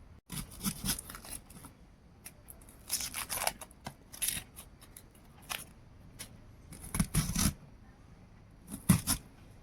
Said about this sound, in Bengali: পেঁয়াজগুলোকে এইভাবে কেটে নেব বন্ধুরা